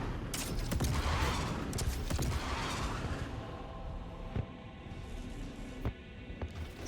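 Missiles launch in rapid succession from a Crusader Ares ship in Star Citizen, a quick burst of whooshing shots up front that fades into quieter engine rumble and a few later thumps.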